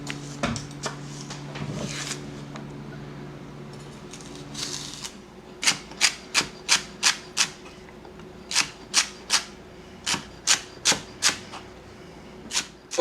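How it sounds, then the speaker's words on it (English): Celery stalks being diced with a knife on a cutting board: a fast run of sharp, evenly spaced chops, close and crisp, starting after a few scattered taps over a low background hum. "I've done the 4 stalks of celery. They're chopped up, diced up fairly small."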